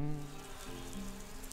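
Bumblebees buzz close by at their nest with a steady droning hum, pitch shifting slightly as they move, no voices.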